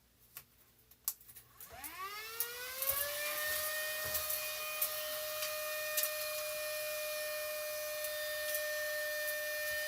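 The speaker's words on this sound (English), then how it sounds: "I have a tiny little vacuum." A tiny handheld vacuum cleaner switches on, its motor whine sweeping upward and then settling into a steady high-pitched drone with a few faint clicks and knocks over it.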